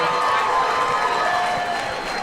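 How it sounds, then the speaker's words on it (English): At a fight event, a crowd claps and cheers in a broad, steady roar, fairly loud and sustained, with voices rising out of the mass of noise. "let's give Scotty a big round of applause"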